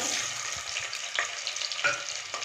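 Onion and spices sautéing in a pan for coriander-mint biryani: a steady close sizzle and crackle, broken by several soft scrapes and knocks as the contents are stirred.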